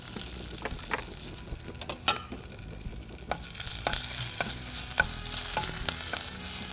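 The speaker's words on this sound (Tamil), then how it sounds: "லேசாக வதக்கிக்கோங்க." Curry leaves and green chillies sauté in hot oil in a pan, a steady close sizzle broken by scattered sharp pops and the scrape of stirring, with no talk over it.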